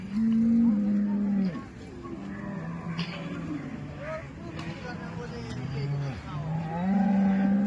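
A cow at a cattle market moos loudly and close, with long low calls at the start and end and quieter lowing in between.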